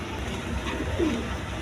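Pigeons coo softly at a loft holding barren breeding pairs, a low murmuring call rising briefly in the middle against a steady noisy background.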